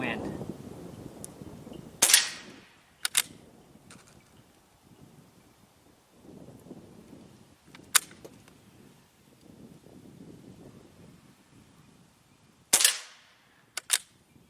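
A Beeman QB78 .22 caliber air rifle fires several sharp, close shots at roughly even intervals, with gusty wind noise between them outdoors.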